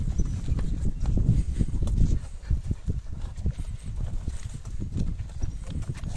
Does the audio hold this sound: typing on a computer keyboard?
no